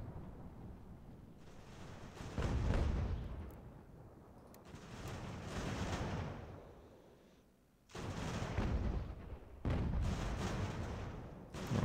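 Musket volleys and artillery fire from a battle in the game Ultimate General: American Revolution come as repeated rumbling bursts, fairly faint, rising and falling in waves with short lulls between.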